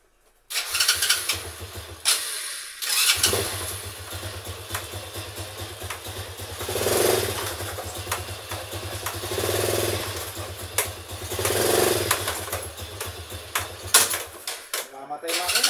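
A motorcycle engine cranks and catches, then idles and revs in uneven surges with mechanical rattling close by, during brake pad maintenance; a person talks intermittently over it.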